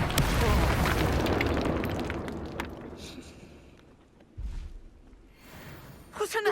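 An incendiary fire spell bursts in Hogwarts Legacy, a loud roaring blast near the start that fades over a few seconds, followed by a second smaller thump and a brief gasp at the end.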